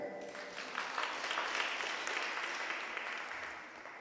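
Audience applause at a Friday prayer meeting of an Asian fellowship at St. Paul's, Slough, greeting a boy singer: a dense, steady wash of many hands clapping, heard from across the room, slowly fading toward the end.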